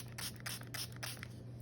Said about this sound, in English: I'm just going to wet these down a little bit with a spray bottle to activate them